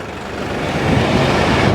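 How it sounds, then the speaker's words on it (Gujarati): A tractor hauling a pilgrim group's luggage and water tank on a foot pilgrimage road from Ahmedabad to Chotila rumbles past with a steady, loud engine drone that swells as it draws nearer. "પાછળ પાછળ આ બીજું ટ્રેક્ટર આવી રહ્યું છે"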